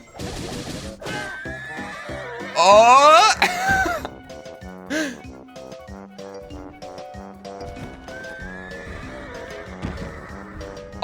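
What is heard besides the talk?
horses neighing in video game Tears of the Kingdom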